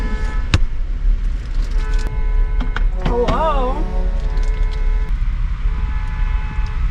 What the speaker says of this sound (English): Whoever that is, shut your car off.